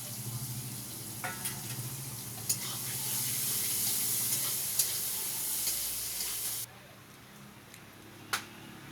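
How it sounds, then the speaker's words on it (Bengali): Onion and capsicum fry together in a pan with a steady, broad sizzle that swells loud through the middle before dropping back to a softer crackle, with a few sharp clicks along the way. "পেঁয়াজ ক্যাপসিকাম দুটোই একসঙ্গে ছেড়ে দিল"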